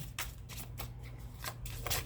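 Tarot cards being shuffled by hand in several quick riffling bursts spread across about two seconds, close and fairly quiet, with no voice heard.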